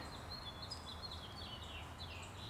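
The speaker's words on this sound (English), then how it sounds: "you can hear the tweeting birds in the background" Birds tweet and chirp outdoors in nature, faint high calls drifting over a steady background hiss without any talk.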